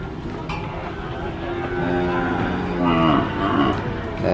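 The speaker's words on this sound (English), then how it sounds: "That's the second cow." A cow moos loudly and close by as cattle are unloaded from a truck, giving two long drawn-out lowing calls over steady background noise.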